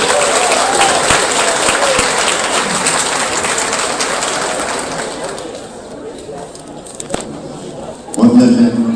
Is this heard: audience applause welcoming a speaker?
yes